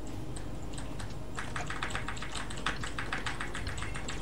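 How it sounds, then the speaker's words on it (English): Rapid clattering keystrokes on a computer keyboard during a Hammerwatch gaming session, a close burst of quick taps rising in density after a quieter start, heard alone without talk. "I can hear tapping on your keyboard, Justin."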